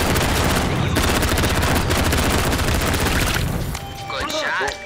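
Rapid, dense bursts of video game gunfire in the VR game Shooty Fruity, with loud continuous shots tapering near the end into synthetic electronic effects.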